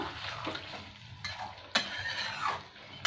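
Egg biryani sizzles and fries in a pan after half a cup of water goes in, with steady crackling and bursts of hissing over scraping stirs, close and moderately loud, no talk.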